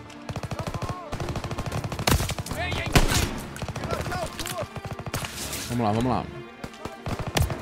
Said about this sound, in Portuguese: Quem tá me atirando agora?